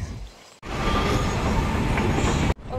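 A metro train in a station rolls past with a loud, continuous roar and rumble of wheels on rails. The noise starts and stops abruptly around a quieter stretch of station ambience.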